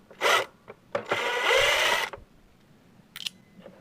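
Short bursts of a whirring electric drill removing screws from a toy blaster shell, one brief spin then a longer sustained run, followed by a quick final burst.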